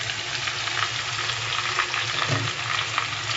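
Tandoori masala chicken fries over medium heat in a steady, dense sizzle with crackling spatter, close and continuous without any voices.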